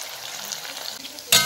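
Chopped tomato hits hot oil with spices in a pan for ghugni and sets up a soft, continuous frying hiss. A sharp, louder burst of sizzle or stirring comes right at the end.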